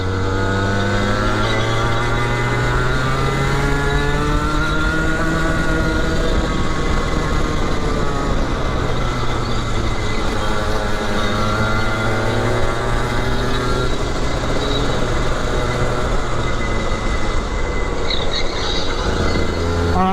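A GT Max race car engine held at full throttle on a track, a loud continuous high-revving drone with rising and falling pitch as it accelerates and shifts, close and alone.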